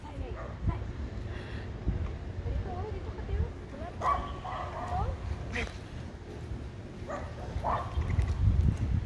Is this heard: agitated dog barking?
yes